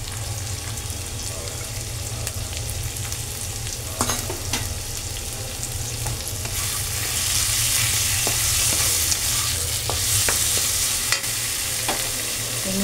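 Chilies cut into three pieces and chickpeas fry in a pan for a vegetarian taro leaf dish, a steady close sizzle with scattered stirring clicks, the hiss growing brighter and louder partway through.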